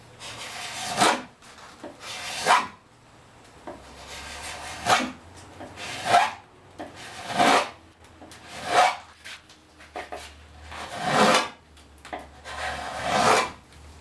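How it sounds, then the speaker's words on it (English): A drawknife bevels the bottom of a wooden seat in about ten rasping, scraping strokes at a steady rhythm, close and fairly loud, with short pauses between pulls. "you want to use the whole draw knife here."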